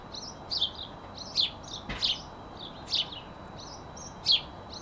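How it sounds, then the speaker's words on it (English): A single bird chirps and tweets outdoors, perched on top of a house chimney, giving repeated short high calls in scattered bursts with one sharper, louder note, over a quiet background with no talking. "I think that there's one bird on top of the chimney"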